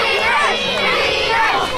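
Loud, excited kids in a wrestling crowd at a free show, a thick close-up wash of overlapping high shouts and chatter running on without a break.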